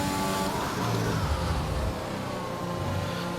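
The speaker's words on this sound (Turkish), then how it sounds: "Burada hafif gazdan çekip 7. vitese kadar düşüyoruz." An F1 car from the F1 2021 game at the British Grand Prix lifts off the throttle and drops down the gears toward seventh, a steady close engine drone with shifting tone and no talk.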